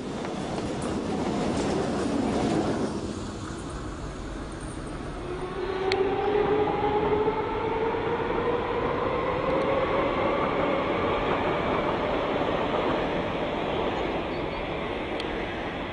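A Class 420 electric S-Bahn commuter train in Stuttgart rumbles steadily past at close range, wheels clattering, with a rising whine from its motors and a continuous loud roar.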